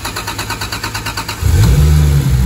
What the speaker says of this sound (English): Wow, look at that cold start.